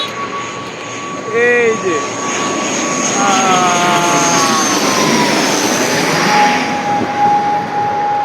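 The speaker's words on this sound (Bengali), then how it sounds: "প্যাসেঞ্জার প্লেন এখনই এটা ল্যান্ডিং করবে ঠিক মাথার উপর দিয়ে ল্যান্ডিং করবে" A passenger jet comes in to land, roaring low overhead, its engine noise swelling loud and holding steady as it passes, with someone speaking briefly near the start.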